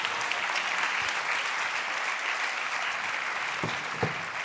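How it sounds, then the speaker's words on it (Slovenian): Warm audience applause for Neo at the POPRI 2026 closing ceremony, an even, sustained roar of clapping from a large hall with a couple of sharper claps near the end, and no talk over it. "En aplavz, prosim."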